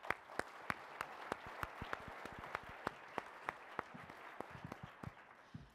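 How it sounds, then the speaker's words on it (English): An audience at a live podcast awards event claps for a host, a fairly faint, loose applause with distinct sharp claps in a steady rhythm that thins out toward the end. "Give him a big round of applause."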